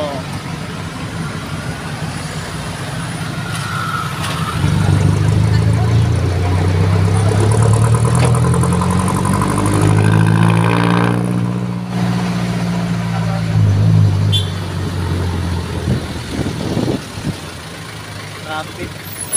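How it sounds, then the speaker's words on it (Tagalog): Road traffic in the Philippines, with car and truck engines rumbling close by, idling and revving as vehicles pull past, while people talk over the noise. "Traffic, traffic."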